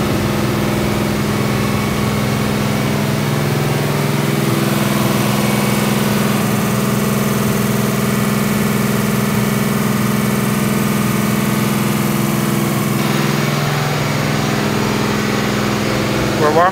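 ERE-383 race engine number 42 idles as it warms up on a dyno, a steady droning hum with a constant low throb, sustained loud and unbroken throughout.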